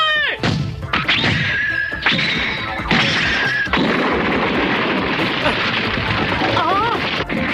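Cartoon soldiers firing guns in an animated Alice in Wonderland scene: a loud series of booming, crashing shots with whistling streaks and zinging effects, dense and chaotic, with voices mixed in.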